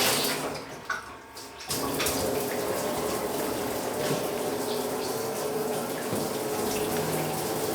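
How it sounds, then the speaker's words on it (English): Cooling water rushes steadily through tubing on a homebrewing HERMS setup while wort is being chilled, a continuous close hiss and gurgle of flow that surges up after a brief dip and then holds steady. "I'm going to turn on my cooling water here and try to get us down to about 80."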